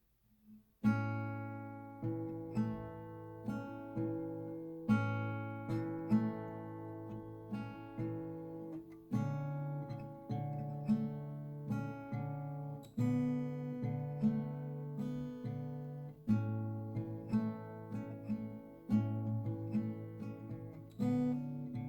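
Guitar chords strummed slowly one at a time, each ringing out and fading before the next, in a steady unhurried rhythm.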